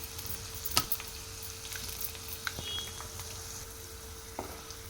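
Garlic cloves and mustard seeds frying in hot oil give a steady, soft crackling sizzle, with a few sharp pops and spits standing out above the continuous hiss.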